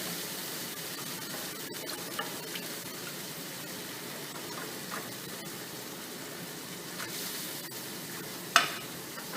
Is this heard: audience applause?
no